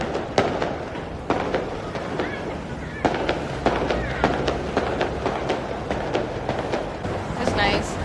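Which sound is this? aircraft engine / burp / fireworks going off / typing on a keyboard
fireworks going off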